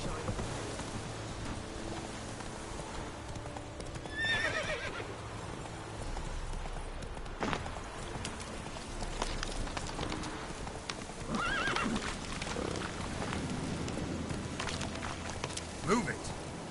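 A horse in the video game The Witcher 3 gallops with rhythmic clip-clopping hooves and lets out a couple of sharp whinnies, with an occasional voice over the steady hoofbeats.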